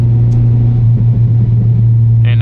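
A used car's engine is floored to overtake other cars on the road, giving a loud, close, steady drone with a strong low hum and no talking.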